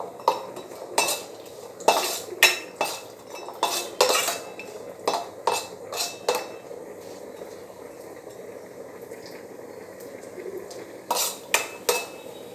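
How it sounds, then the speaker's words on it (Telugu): Dried coconut pieces frying in a pan while being made for chakkara pongali, with clustered metallic clinks and scrapes of a spoon against the pan and a soft sizzle underneath, the stirring pausing midway before resuming. "ఇప్పుడు అదే ప్యాన్లో చిన్న చిన్న ఎండు కొబ్బరి ముక్కలు మనం కట్ చేసి పెట్టుకున్నాం కదండి, ఇవి కూడా గోల్డెన్ కలర్ వచ్చేంత వరకు ఫ్రై చేయండి"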